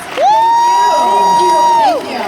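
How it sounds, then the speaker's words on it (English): Crowd cheering at a Buffy the Vampire Slayer convention panel at Rose City Comicon 2022, dominated by one loud, sustained, high whoop that holds steady for about two seconds over a faint crowd murmur. "let's give it up a big round. More applause right now."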